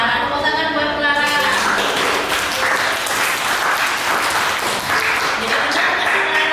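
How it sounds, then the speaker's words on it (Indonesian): A classroom of students claps for a classmate, a dense burst of hand claps that keeps going, with a voice talking over the start before the applause takes over. "Tepuk tangan buat Clara."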